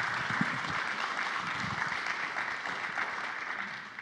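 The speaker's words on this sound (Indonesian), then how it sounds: "Kita kasih tepuk tangan dulu untuk Pak Misbakun." Sustained audience applause fills a parliamentary hearing on the Indonesian capital market, steady dense clapping from a crowd with faint voices underneath, continuous and even throughout.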